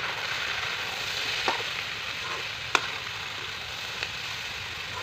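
Eggplant sizzles in a pan with turmeric, chili, coriander powder, cumin, salt and capsicum, giving a constant soft frying hiss broken by a few faint clicks of stirring.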